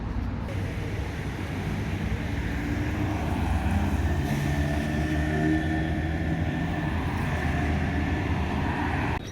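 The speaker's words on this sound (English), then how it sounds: "Oh, there's a tram coming actually." A tram passing on a New Orleans street: a steady low rumble of rail wheels with faint tonal squeal, heard amid continuous city traffic noise at moderate distance.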